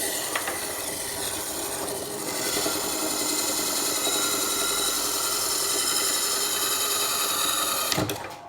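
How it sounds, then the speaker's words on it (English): A wood lathe parts off a turned dog treat jar lid, giving a steady, loud whirring drone with a scraping, rasping edge throughout, then a short clunk near the end as the cut-off piece comes free. "I think all that is left is to cut it off"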